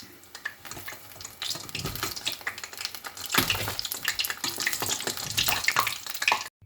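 Banana balls deep-frying in hot oil for an evening snack give a steady, dense crackle and bubble that builds louder partway through and continues without talk.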